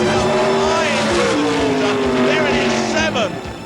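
A Ford Granada race car screams past at high speed, its loud engine note sweeping and shifting through gears with tire noise, the roar dropping away near the end as it passes.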